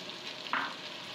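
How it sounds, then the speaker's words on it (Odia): Tadka masala fries in oil after a splash of water, the spices cooked down until the oil separates. A soft, low sizzle runs throughout, with one brief brighter crackle partway through. "ମସଲାଟି ଭଲ ଭାବରେ କଷି ହେଇଗଲା, ଦେଖନ୍ତୁ କେମିତି ତେଲ ବାହାରୁଛି।"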